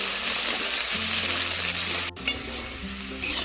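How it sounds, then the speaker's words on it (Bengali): Potato pieces fry with salt in a pan, a steady broadband sizzle with scraping stirs throughout and one sharp click near the middle, loud and close with no voices. "এখন নাড়িয়ে চাড়িয়ে আলুগুলোকে একটু ভাজা ভাজা মতো করে নেব।"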